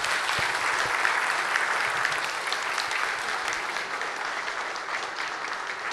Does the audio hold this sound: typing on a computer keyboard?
no